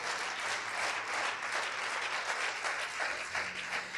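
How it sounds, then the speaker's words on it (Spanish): A church congregation at a Sunday service breaks into dense, sustained applause, many hands clapping together at an even level throughout, with no voices standing out. "Dele un aplauso al Señor."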